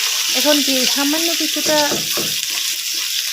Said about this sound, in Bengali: ওই কড়াইতে মাছ ভাজা যেগুলো তেল ছিল ওইখানে পেঁয়াজ কুচি ছেড়ে দিলাম।